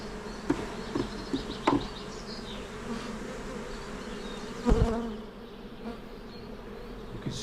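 Honeybees buzz in a dense, continuous drone during a shook swarm as frames are shaken out, with a few sharp knocks and thuds from handling the hive equipment.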